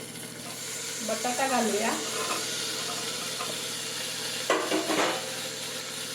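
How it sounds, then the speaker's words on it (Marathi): Vegetables and spice paste sauté in a pan for masale bhat, a continuous loud sizzle and steamy hiss with a few stirring scrapes, while someone speaks briefly over it. "परतून घेऊया सुगंध येऊपर्यंत"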